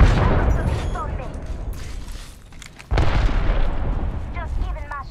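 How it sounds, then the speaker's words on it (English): In a video game, a grenade goes off with a loud booming blast that fades, then a second heavy burst of explosive noise follows near the end, with gunfire-like crackle around it. "Look out, grenade."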